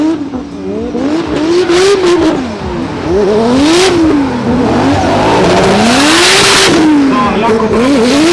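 Drift cars battling side by side, door to door, engines revving and wailing up and down with tire squeal and skidding, loud and close, with a commentator talking over the action.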